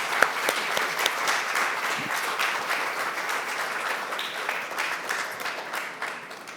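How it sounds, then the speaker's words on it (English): An audience at an apprenticeship celebration at a museum gives a sustained round of applause, steady dense clapping filling the space from start to finish with no talking over it. "let's give them a round of applause as well"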